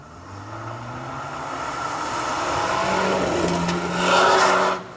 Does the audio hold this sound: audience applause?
no